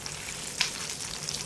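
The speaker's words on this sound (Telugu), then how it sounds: "ఒక గుప్పెడు పల్లీలు యాడ్ చేసి తాలింపు మగ్గాక" A handful of peanuts fry in hot tempering oil for tamarind rice, giving a faint, steady sizzle with one brief stir partway through.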